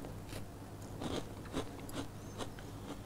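Someone bites into a crunchy homemade chickpea cookie, giving a quiet series of brittle crunches and crackles close to the mic.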